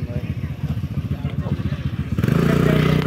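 Motorbikes at a driving license trial centre throb close by with a pulsing idle, then one engine revs into a louder steady drone near the end.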